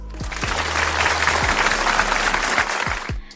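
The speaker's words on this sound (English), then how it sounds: "let's have a clap for everyone" A classroom of fifth-grade pupils claps together during a first aid lesson, a dense steady patter of many hands filling about three seconds before stopping abruptly.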